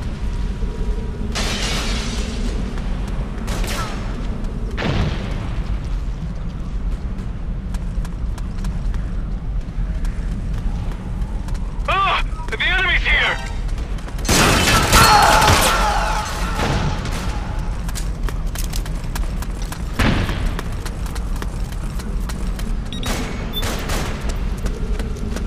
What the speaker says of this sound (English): I just threw 3 grenades.